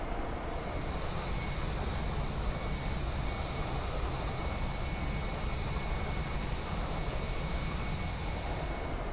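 Airplane engine drone in flight in the X-Plane 11 flight simulator, a steady, even broadband roar with a faint high whine, continuous and unchanging throughout, no voices.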